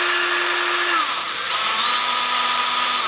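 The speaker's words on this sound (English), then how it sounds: "I'm going to try to drill straight through." A power drill bores straight through a rail of Pella between-the-glass mini blinds, a loud continuous whine that shifts in pitch as the bit works through, close and sustained with no voices.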